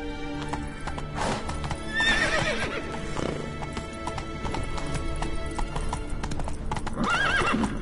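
Galloping hooves and a horse's whinny from The Witcher 3 game, a steady clip-clop rhythm running throughout with neighs near the middle and end, all up close and loud.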